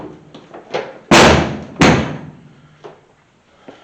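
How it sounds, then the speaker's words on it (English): Door of a 1983 Chevy C30 truck shutting: two heavy metallic slams about a second apart, close and loud, with a few light taps and clunks before and after. "And we'll close our door again"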